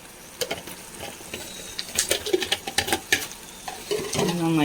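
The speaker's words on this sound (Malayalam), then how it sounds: "നന്നായി ഇളക്കി കൊടുക്കാം." Chilli soya stirred with a spoon in a hot pan, a run of scraping, clinking strokes over a steady sizzle, close and fairly loud, with a brief bubbling at the end.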